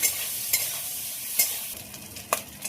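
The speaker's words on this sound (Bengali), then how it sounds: "খুব ভালো করে নেড়ে দেবো।" Prawns seasoned with turmeric and salt frying in a pan, a steady close sizzle with a few sharp scraping knocks as they are stirred.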